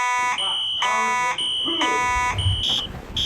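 A fire alarm going off at a Chuck E. Cheese's, sounding as loud, steady electronic tones that pulse on and off about once a second, with faint background noise between the tones.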